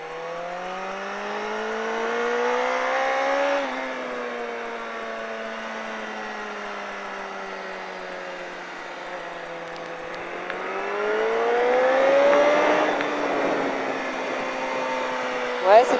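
A car on a race track holds a steady engine drone that rises in pitch as it accelerates, easing and climbing again, with a person talking over it.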